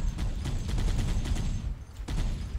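Rapid, steady burst of heavy machine-gun fire from the vehicle gunner seat in Halo: Combat Evolved, a dense rattling stream with a short pause before firing resumes.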